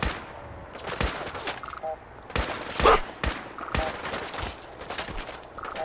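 Gunfire in the video game Fallout 4, with sharp shots cracking out in irregular bursts about once a second, some clustered, over a low ambient background.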